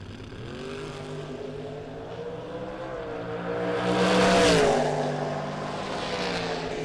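Two drag-racing cars, a 1967 Chevrolet Camaro and a 1968 Chevrolet Camaro, roar with a steady low engine drone that swells into a louder, rising rev burst midway before settling back to a sustained rumble, with no talk.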